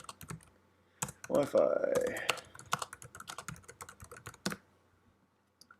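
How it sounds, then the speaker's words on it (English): Computer keyboard typing very close to the microphone, with sharp, irregular key clicks spread across the clip and a brief stretch of talk in the middle. "typing is probably extremely loud when you're, because my microphone is right near the keyboard"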